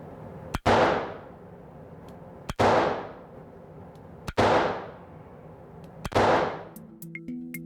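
Four sharp, loud gunshots ring out at Westside Rifle and Pistol Range, a Manhattan shooting range, spaced roughly two seconds apart, each with a booming echoing tail in the indoor range.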